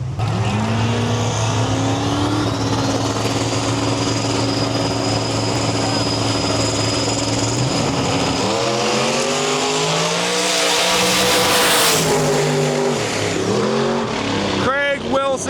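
Small-tire drag race cars at a racing invitational, loud engines droning at full power, then rising and warbling through shifts as they race past, with a sharp high squeal near the end.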